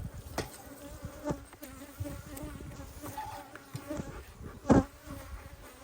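Honeybees buzz steadily around open beehives during a hive inspection, a close, dense insect drone with occasional louder passes and a sharp knock near the end, no speech.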